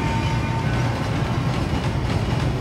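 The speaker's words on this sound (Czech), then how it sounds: "A akorát jede vlak." A steady low rumble of a passing train in the video game Wolfenstein: The New Order, continuous rolling noise with faint rhythmic clatter, fairly loud and unbroken throughout.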